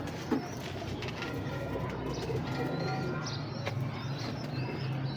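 Golden pigeons coo in a loft at a home, soft low murmuring calls under constant background noise.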